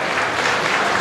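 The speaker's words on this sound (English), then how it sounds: "give this HCAL class a round of applause" A brief burst of audience applause at a Holstein dairy cow show class in a show ring, dense, loud clapping that fills the moment evenly.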